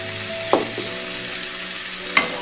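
Ground cinnamon, black pepper, cardamom and cumin roast in a pan for achari chickpea fry, a steady soft sizzle with two sharp utensil clinks against the pan.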